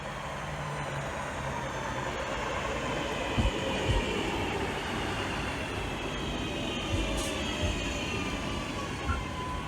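A train rumbles near a single-platform station at Redditch, a low steady roar with a few heavier thumps and faint high squeals, moderately quiet throughout.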